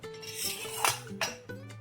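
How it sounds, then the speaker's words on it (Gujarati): Metal clinks and clatters of a pressure cooker lid being opened after releasing steam while cooking Gujarati cluster bean (gavar) curry, with a few sharp close knocks and scrapes. "તો આપણે બધી જ હવા નીકળી ગઈ પછી આપણે કુકરને ખોલીશું"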